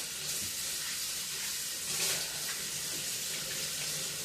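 Tap water runs steadily into a sink while plates are washed, a continuous hiss with faint clinks and splashes, close by and without talk.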